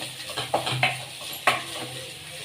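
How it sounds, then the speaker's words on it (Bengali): Fish chop mixture with boiled potato being stirred in a pan, several quick scraping strokes and clinks of a spatula over a low sizzle, close and clear. "এবারে আমি এটাকে ভালো করে নেড়ে চেড়ে নেব"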